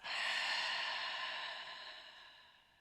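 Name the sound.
long exhale during breathing exercise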